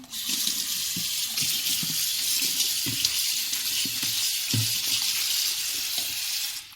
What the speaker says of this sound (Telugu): టమాటాలు ఇవన్నీ కడిగి పెట్టుకుందాం